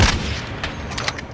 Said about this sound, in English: We just wasting bullets at each other for real.